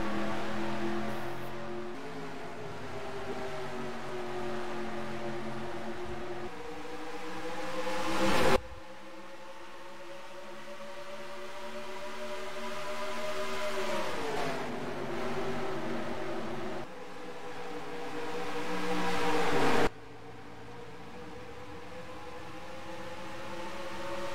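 Stock race cars in the Dollar General 150 at Phoenix Raceway roar past loudly, engine pitch rising and sweeping as packs pass, with abrupt cuts between sustained passes and no talk.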